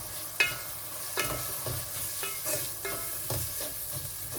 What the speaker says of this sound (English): Mix, give it a mix